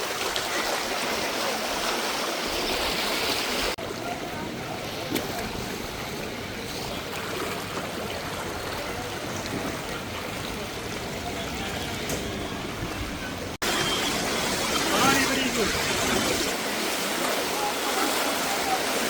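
Floodwater rushes steadily in a broad, continuous roar, louder than an earlier flood two months before, with an abrupt shift in intensity partway through and no break in the flow.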